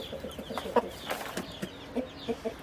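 Turkey cock or rooster in a poultry coop of turkeys and goslings, giving several short, close clucks spaced irregularly over faint ambient background.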